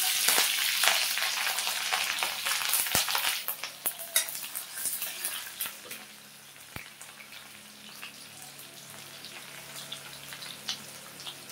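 Radhuni seeds, green chili, onion and garlic sizzle steadily in hot oil, a dense crackling hiss that is louder at first and eases after a few seconds, broken by occasional sharp pops and scrapes of a utensil stirring the pan.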